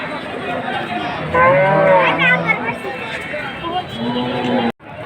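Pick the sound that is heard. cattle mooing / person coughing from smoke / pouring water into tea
cattle mooing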